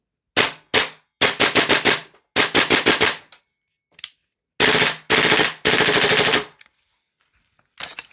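An airsoft rifle fires in rapid semi-auto bursts, a Salvo MCX compared with a DE Ghetto Blaster, with loud snappy shots clustered in quick strings separated by brief pauses.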